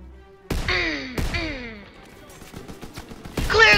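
Gunfire in a World War-style trench combat video game: a few heavy, sharp shots with ringing tails, then a rapid patter of quieter rounds and a loud burst at the end, close and punchy.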